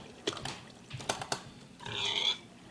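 Pig grunts and oinks from a Minecraft pig farm sound in short, separate bursts, followed by a longer squealing grunt, moderately loud against a quiet background.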